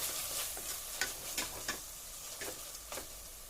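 Onions sautéing in a pan for Tamil-style chicken curry, a faint soft sizzle with several sharp spoon-against-pan scrapes and taps spaced irregularly, no voices.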